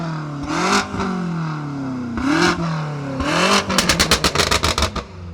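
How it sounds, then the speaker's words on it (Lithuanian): A loud Honda Civic engine revs in three rising surges, then finishes with a rapid burst of sharp, stuttering blips, close and dominant with no speech. "Kodėl čia tokia garsi mašina?"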